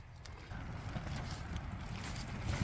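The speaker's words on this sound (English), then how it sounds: "Oh, this wind is absolutely freezing" Cold winter wind blows across a wild camping spot with a one-man tent, a steady broad rush buffeting the microphone with low rumble throughout, close and continuous.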